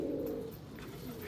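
A pigeon gives a brief, low coo, close and fairly clear against a steady background hum.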